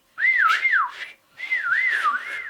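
A person whistles two short wavering phrases, each a sliding up-and-down tone, close and clear with a brief pause between them and no talk.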